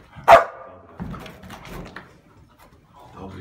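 A dog gives one loud, close bark near the start during military working-dog training, followed by a trainer's voice speaking.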